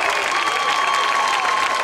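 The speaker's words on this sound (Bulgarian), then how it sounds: "Сега ще помоля за вашите топли аплодисменти за най-малките участници в нашия фестивал" Warm, sustained audience applause at a folk dance festival for young child dancers aged six to nine, dense even clapping filling the hall with light cheering beneath it.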